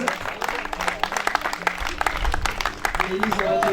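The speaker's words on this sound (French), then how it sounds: "je vais vous demander d'applaudir notre vainqueur d'étape aujourd'hui" A crowd claps for a mountain bike stage winner at the Raid VTT des Monts d'Ardèche, a steady patter of hands with voices talking over it throughout.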